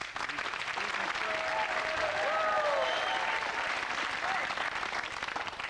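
Studio audience on a 1989 UK TV game show, The Pyramid Game, breaking into sustained, dense applause that holds steady throughout, with faint voices and cheering mixed into the clapping.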